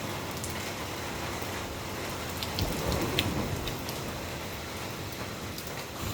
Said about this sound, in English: it's raining very heavy